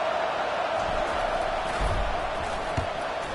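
Stadium crowd at an Illinois college football game, a dense continuous roar of many voices with a few dull thumps, loud and steady.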